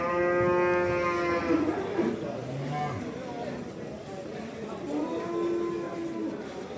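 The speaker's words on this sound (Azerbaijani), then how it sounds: "Bax, belə danalarımız var." Calves mooing at a busy livestock market in Kür settlement, with several long, drawn-out bellowing calls close by over a steady background of crowd noise and distant chatter.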